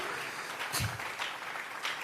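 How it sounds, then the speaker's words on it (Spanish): Congregation clapping hands in a worship service, a moderately faint, rapid patter of many palms with a few sharper bursts through a couple of seconds. "Vamos a regalarle ofrenda de palmas al Dios de la gloria"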